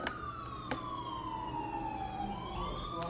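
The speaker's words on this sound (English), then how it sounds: "Just in time for the sirens." A wailing siren sweeps slowly downward and then climbs again, fairly distant over low background rumble, with a few sharp clicks.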